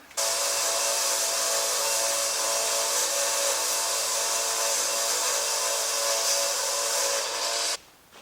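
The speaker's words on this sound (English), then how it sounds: "clean them up in the sander, get the oil off them, then clean them up" A sander cleaning oil off steel tube copes for a rockcrawler chassis build: a loud, continuous abrasive whir with a steady motor hum lasts nearly the whole time, then cuts off sharply near the end.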